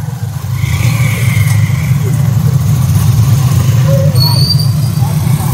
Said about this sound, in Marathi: हे बघा गाडी सगळे येतात बाहेर.